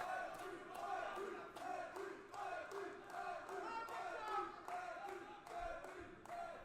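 An amateur MMA crowd at a bantamweight title fight chants a fighter's name in a steady, repeated rhythmic cadence, loud and massed, with claps punctuating each beat.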